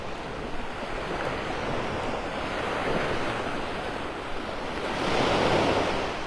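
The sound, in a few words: ocean waves breaking on a beach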